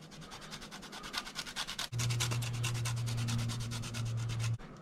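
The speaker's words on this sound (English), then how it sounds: "I've got 1 lime here, and I'm just going to grate the zest of that." Lime zest being grated for Thai chicken cakes, a steady rapid rasping scrape of rind against a grater, close and continuous, with a low hum from about two seconds on.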